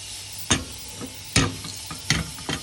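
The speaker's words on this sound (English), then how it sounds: "now I'm going to drop in my pierced chilies" Pierced chilies drop into hot oil, producing three sharp, crackling sizzle bursts spaced under a second apart over a low, steady frying hiss.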